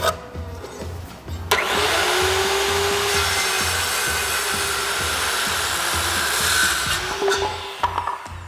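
A jointer face-joints a rough sawn lumber board, with a loud steady motor-and-cutterhead roar running for about six seconds after startup and winding down at the end, over a rhythmic low background hum.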